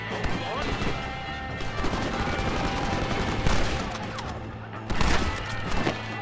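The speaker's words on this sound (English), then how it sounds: "there's the machine gun" Machine gun fire in Red Dead Redemption (2010), dense bursts of rapid shots running throughout amid game noise and clattering, with louder volleys near the end and a voice speaking under the din.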